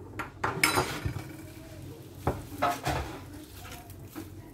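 Utensil stirring makrout mixture with orange blossom water in a bowl, giving a few close scraping, clinking strokes in bursts with pauses between them.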